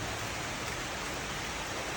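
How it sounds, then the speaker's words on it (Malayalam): Heavy rain pours steadily outdoors, a dense, continuous hiss that stays loud and even throughout, with no voices. "മഴ കൂടുന്നുണ്ട്."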